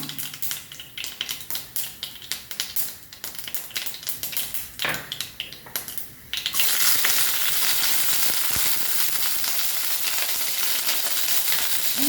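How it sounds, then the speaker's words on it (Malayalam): Curry leaves hit hot coconut oil in which mustard seeds are already popping, during Kerala-style kappa kadala cooking. Scattered crackles and taps give way to a loud, steady, close sizzle that fills the second half, with no voices. "നമുക്കതിലേക്ക് കറിവേപ്പില ഇടാം"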